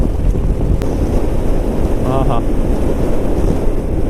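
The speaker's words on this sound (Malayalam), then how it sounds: "പരന്ന റോഡ്, കാറ്റ് വീശിക്കൊണ്ടിരിക്കുന്നുണ്ട്" Wind buffets a vehicle driving on a flat road past green paddy fields, a loud, steady low roar throughout, with a brief voice heard over it.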